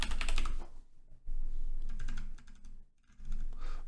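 Fingers typing a search on a computer keyboard, close, quick bursts of key clicks separated by brief pauses, with no talking.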